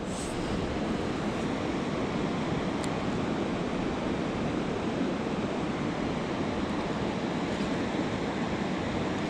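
The Madawaska River near Griffith flowing through its whitewater stretch, a steady broadband rush of moving water heard up close, continuous and even, with light wind noise and no talking.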